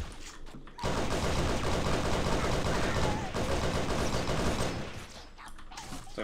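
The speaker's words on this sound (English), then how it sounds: "I'm shooting a damn laser beam at them" Rapid weapon fire rages continuously in the Halo SPV3.2 shooter, a laser beam weapon blasting in a steady, dense stream for several seconds before easing off near the end.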